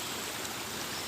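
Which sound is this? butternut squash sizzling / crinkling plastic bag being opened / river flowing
river flowing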